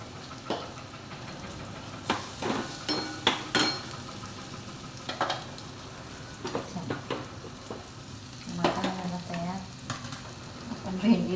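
Okra frying in oil with red chilli powder, Byadgi chilli powder and asafoetida, a continuous sizzle broken by intermittent spatula scrapes and clatters against the pan, close and moderately loud, no talking.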